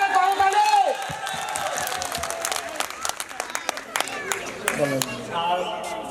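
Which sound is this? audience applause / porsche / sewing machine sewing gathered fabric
audience applause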